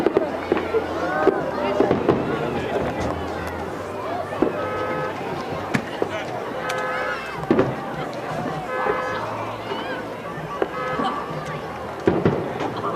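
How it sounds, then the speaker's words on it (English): Fireworks pop and crackle repeatedly, some near and some distant, in an outdoor crowd setting, with people talking over the bursts throughout. "we're waiting for the fireworks to start"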